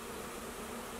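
A large swarm of honey bees settles into an empty hive, producing a dense, steady buzzing hum that stays close and unbroken throughout.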